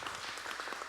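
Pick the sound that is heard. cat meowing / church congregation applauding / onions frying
church congregation applauding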